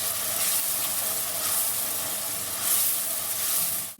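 Very finely chopped onions fry in oil in a pan, a dense, even, continuous sizzling hiss heard up close with no talking.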